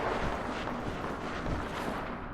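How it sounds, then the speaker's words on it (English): Sustained, dense gunfire from the video game Fallout 4, a continuous loud rumbling wash of shots and blasts with no clear gaps and no talk over it. "I hear gunfire"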